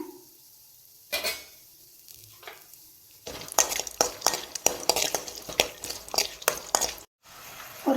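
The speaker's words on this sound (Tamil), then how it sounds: "நறுக்கின பாதாம் பருப்பை வறுத்துட்டுங்க" Crackling sizzle of chopped almonds frying in hot ghee, with repeated scraping and stirring clatter in a pan, close and fairly loud after a quiet start.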